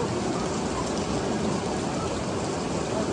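Steady rain pours down in a dense, even hiss, close by, with no talking.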